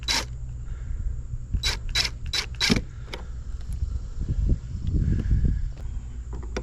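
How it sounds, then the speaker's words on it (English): An impact driver drives an extra-long screw into the mounting bracket of a five-head motion light above a garage. A quick cluster of four loud rattling bursts is followed by lower rumbling handling noise, close by with no talking. "This screw is extra long, so I'm going to use the impact driver to get it in there"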